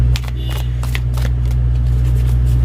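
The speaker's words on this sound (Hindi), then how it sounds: "अब ये जो कार्ड्स है ना, ये अपेरेंटली लेफ्ट साइड पे गिरे हैं" Tarot cards riffle and slap down in a series of soft, papery bursts, close and fairly loud, over a steady low electrical hum.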